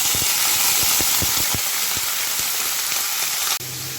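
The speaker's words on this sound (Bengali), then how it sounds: "এবার কোচানো ফুলকপির গোড়া আর পাতা আর ডাল আমি এই গরম তেলে দিয়ে দেব।" Chopped cauliflower stems, leaves and stalks drop into hot oil already browning garlic and black cumin, giving a loud, steady, close sizzle with faint stirring taps, then a quieter hiss near the end.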